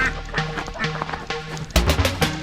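Farm ducks on a cold morning quack in a burst of several loud, nasal calls close by, with rustling and scuffling movement around them.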